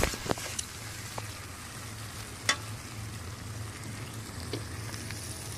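Banana blossom mash frying in a pan while being stirred, a steady close sizzle with occasional sharp scrapes and clicks of the spoon.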